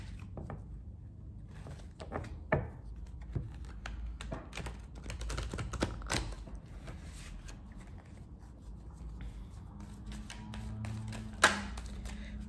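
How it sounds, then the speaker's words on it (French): A deck of tarot cards is shuffled by hand, a run of soft, irregular riffling taps and sharper snaps that come in quick bursts, close and fairly quiet, with no talking. "Je bats les cartes."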